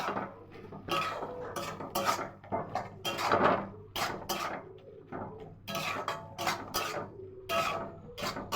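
A spoon or spatula scrapes and clatters against a metal pan while green chillies and chilli powder are stirred, giving irregular, fairly close rasping strokes with occasional light knocks and birds chirping faintly in the background.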